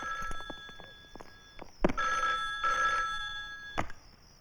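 A telephone bell rings in short repeated bursts across an indoor comedy scene, with footstep-like knocks and thuds scattered between the rings.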